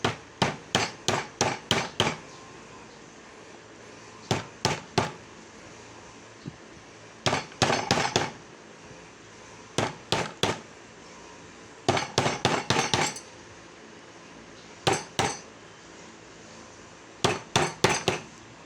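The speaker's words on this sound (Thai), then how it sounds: "ค่อยๆ ตอกมันลงไปนะจ๊ะ" A hammer gently taps parts into place while an antique fan is being assembled. The quick, close metallic knocks come in short clusters of three to five, with brief pauses between them and no talking.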